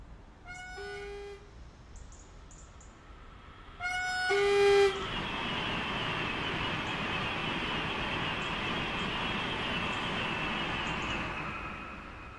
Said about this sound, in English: And just like that, the train is gone.